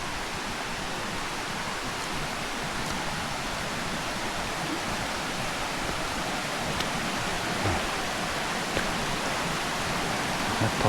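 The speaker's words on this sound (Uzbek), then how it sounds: "Zo'r suvli joylari bor ekan. Bu sharsharadek oqyapti." Water rushes down a rocky hiking trail like a small waterfall, a steady broadband roar filling the whole stretch with no pause, close and loud.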